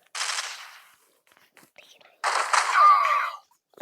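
Rapid bursts of automatic gunfire from a shooting video game, in two loud stretches separated by a quiet gap, the second with a short rising tone within it.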